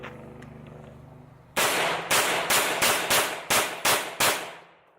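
Eight loud, sharp gunshots strike a steel armor plate outdoors, spaced roughly evenly, each a close crack with a brief ringing decay, after a quiet humming lead-in.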